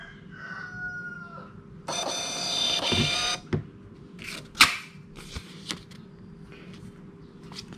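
A WiFi thermal printer prints a sales receipt with a sustained whirring buzz of a couple of seconds, followed by clicks and short mechanical rattles as the paper is torn off, with quiet room sound between.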